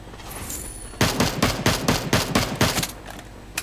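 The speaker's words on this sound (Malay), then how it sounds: "Zan sekarang ini berjaya membuat tembakan" Gunfire in a battle royale video game: a rapid run of about ten sharp automatic shots in close succession, loud and near, after a quieter lead-in.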